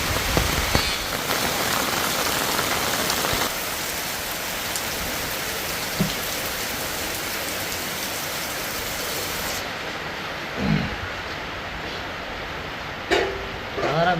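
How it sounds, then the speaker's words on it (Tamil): Steady rain falls outdoors in Jaffna, a dense continuous patter that drops slightly in intensity partway through, with brief voices breaking in near the end. "மழை வந்துச்சு மழை வந்துச்சு"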